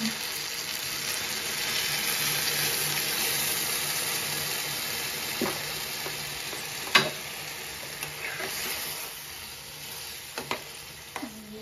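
Fish curry broth with lotha poured into a hot frying pan gives a steady, close sizzling hiss that runs throughout, with a few faint clinks near the end.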